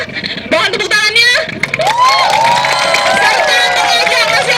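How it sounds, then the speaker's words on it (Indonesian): A crowd of volunteers at a rally declaring support for Wayan Koster as Governor of Bali claps and cheers loudly and steadily, with shouting voices and a speaker's amplified talk mixed through the noise. "Mohon tepuk tangannya."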